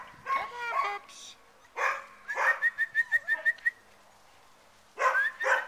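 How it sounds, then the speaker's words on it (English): Six-week-old puppies yap and yip outdoors in short bursts, with a rapid run of high squeaky yelps in the middle and a brief voice or whistle at times. "They're all pretty confident little puppies."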